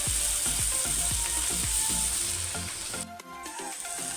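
Dry red chillies, coriander seeds, shahi cumin, cinnamon, white sesame, stone flower, cloves and black pepper roasting in a pan for a veg Kolhapuri masala, with steady close sizzling and a run of rhythmic scraping clicks that thin out near the end.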